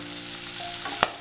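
Garlic and small bird's-eye chillies sauté in hot oil in a pan, a steady close sizzle with a brief sharp stir or clink near the end and no talking.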